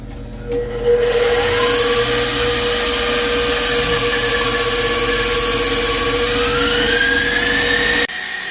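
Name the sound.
electric mixer whipping meringue in a bowl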